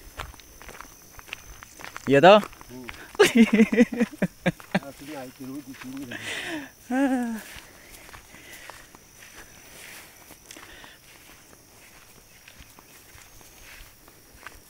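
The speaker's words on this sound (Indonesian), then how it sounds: "Tidak ada motor, jalan kaki saja." Footsteps of people walking on foot along a historic path near Melekom, heard as soft steps beneath nearby voices talking, with louder speech bursts early on and quieter steps continuing afterward.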